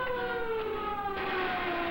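A stock-footage film siren wails steadily with slowly shifting pitch, moderately distant, with no talking.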